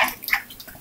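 Water is poured into a pan of tomato kurma on the stove, a short splashing gurgle that lasts under a second, close and clear.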